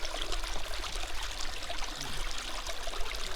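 Water rushes steadily through a gold prospecting sluice box set at a lowered angle, a continuous close splashing flow with no voices.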